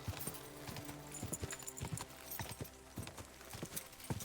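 Hooves clip-clop in a steady trotting rhythm from a horse in the video game Kingdom Come: Deliverance II, fairly quiet with no voices over it.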